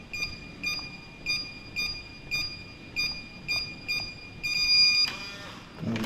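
A door's key code keypad in a Ho Chi Minh City apartment building, beeping in a steady run of short electronic tones about half a second apart, then a longer rising tone as the code is accepted.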